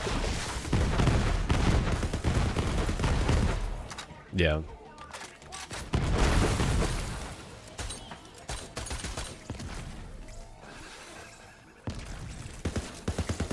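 Explosions and bursts of gunfire from the video game Borderlands 3 crackle densely and loudly throughout, with a brief whooshing sweep partway through, mixed under a player's talk.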